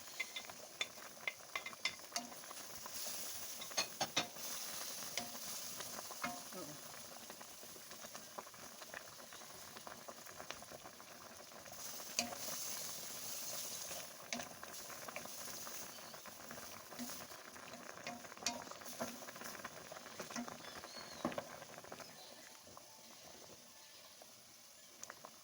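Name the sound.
mushrooms added and stirred in pan for tuna creamy pasta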